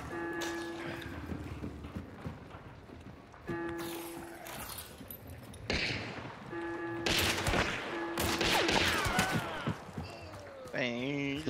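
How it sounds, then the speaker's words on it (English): An enemy fires at the player in the video game Hunt: Showdown, producing several loud, sharp shots and bursts spread across the moment, with players talking over them. "he's outside shooting me"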